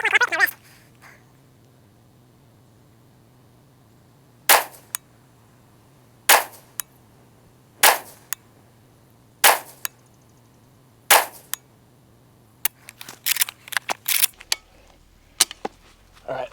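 Rifle firing a group of shots at a 50-yard range, roughly a dozen sharp, loud cracks spaced a second or two apart, several coming in quicker succession near the end, over a low steady hum.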